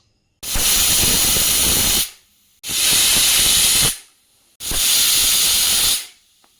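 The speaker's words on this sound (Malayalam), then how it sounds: "ഗ്യാസ് ഓൺ ചെയ്ത് ഇപ്പോൾ കുക്കർ തീ കുറച്ച് വെച്ചിട്ടുണ്ട്" A pressure cooker on a low gas flame releases three loud, steady bursts of hissing steam, each lasting about a second and a half, with short quiet gaps between them.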